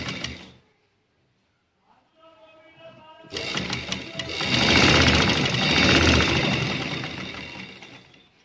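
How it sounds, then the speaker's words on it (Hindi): A sewing machine stitching along the outer side of fabric, a rapid mechanical whirring that starts after a brief pause and some speech, growing loud and steady for several seconds. "अब मैं इसकी सिलाई बाहर वाली साइड पे लगाऊंगी।"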